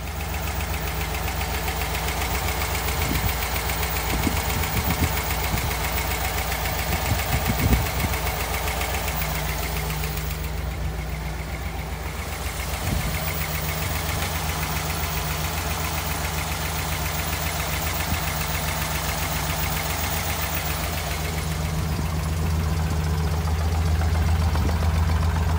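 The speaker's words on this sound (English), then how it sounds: "let's get that engine started and take a look" A 1956 Ford Thunderbird's 312 cubic inch V8 starts and idles steadily with a low, rumbling throb and faint knocking, continuous throughout with no voices.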